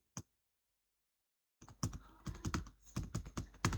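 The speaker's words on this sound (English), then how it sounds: "click on cell A11 and then we will type monthly sales" Typing on a computer keyboard while entering text in an Excel spreadsheet: one lone click, a pause of silence, then a quick burst of close, crisp keystrokes.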